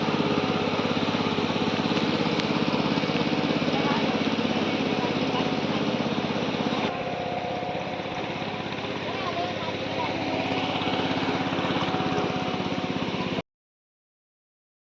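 A tractor engine drones and rumbles without pause from start to finish on a Konkan farm, loud and close, ending abruptly.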